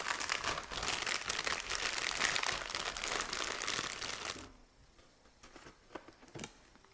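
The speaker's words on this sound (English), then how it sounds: "we're going to use the Ziploc bag" A Ziploc plastic bag holding an oil-soaked pressure washer air filter crinkles loudly and steadily for about four seconds, then drops to a few faint rustles and soft taps.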